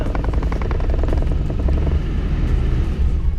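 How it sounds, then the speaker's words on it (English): A sailboat's inboard engine is revved to about 1500 RPM in reverse, a loud, close, steady rumbling drone with a throbbing pulse that holds constant for a few seconds. "So push it in reverse and rev it up to, what do we have here? Let's go up to 1500."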